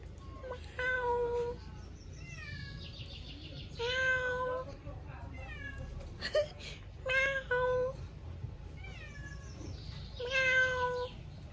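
A cat meows repeatedly in a quiet indoor setting, several drawn-out plaintive cries with short pauses between them, while someone talks softly in between.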